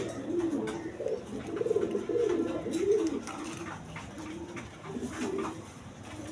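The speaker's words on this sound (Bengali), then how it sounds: "এইখানে এক পেয়ার কবুতর আছে" A pair of pigeons kept with their eggs and chicks cooing in repeated low, throaty phrases, close and fairly quiet, with short pauses between calls.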